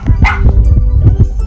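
A Rottador puppy gives several quick, close, loud barks and yips in a rapid irregular burst, with whimpery edges between them.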